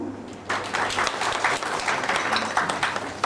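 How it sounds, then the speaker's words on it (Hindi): Audience applause fills a hall at a book release function in Allahabad Museum, breaking out suddenly after a brief quiet moment and holding steady and dense to the end. "आपकी जोरदार तालियां"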